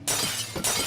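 Glass shatters twice in Amnesia: The Dark Descent, two loud bright crashes about half a second apart, close and alone with no talk.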